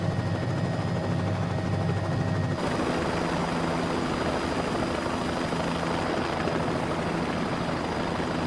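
A Bell 407 helicopter's engine and rotor roar steadily, a deep thrum that shifts partway through into a broader, louder rushing whine, heard from close by.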